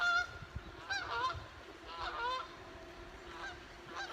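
Geese honk in a series of nasal calls spread across the span, some overlapping, set against a steady low outdoor rumble.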